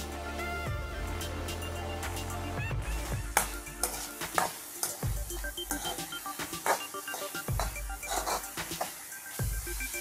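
Sprouted green gram cooks in coconut oil and is stirred, producing a moderate sizzle punctuated by frequent spoon clinks and scraping knocks against the pan, with no one speaking.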